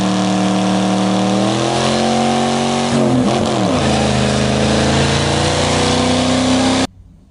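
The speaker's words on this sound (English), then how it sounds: "Doing huge, massive burnouts on street tires at the drag strip is terrible." A car doing a burnout on street tires at a drag strip: a loud, sustained engine roar that climbs in pitch as it revs, with a rougher squealing stretch midway before cutting off abruptly.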